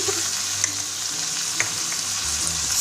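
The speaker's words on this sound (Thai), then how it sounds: "พอกุ้งเริ่มจะสุกได้ที่แล้ว ทีนี้เราก็ใส่ ดอกแค่ฝรั่งลงไปเลยจ้า" Shrimp and cauliflower stir-frying in a hot pan for a Thai dish, a steady hiss of sizzling oil with a few scrapes and clinks of the utensil, close and continuous, no voices.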